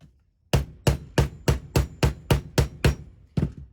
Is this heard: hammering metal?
yes